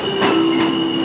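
A subway train's wheels screech as it arrives at a station, a steady high metallic whine and a low hum, brief rumbling swells passing underneath.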